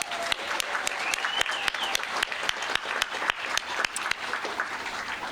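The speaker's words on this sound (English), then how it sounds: "Can you give them all a round of applause?" A crowd gathered outdoors for a July 4th celebration at Monticello applauds at a moderate distance, a steady patter punctuated by sharp, closer individual claps.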